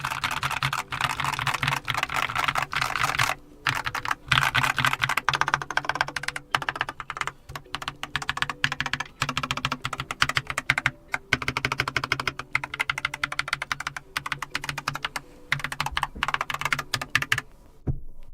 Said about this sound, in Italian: per quanto riguarda la tastiera, devo dire che questa, tra tutte quelle che abbiamo provato finora, suona sicuramente la più vuota